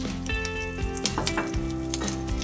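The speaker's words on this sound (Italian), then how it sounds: "Allora mettiamo in padella olio extravergine d'oliva, l'aglio e il peperoncino." Anchovies, garlic and crushed chili frying in extra virgin olive oil in a pan, a close steady sizzle with crackling pops and stirring clicks throughout, with no voices.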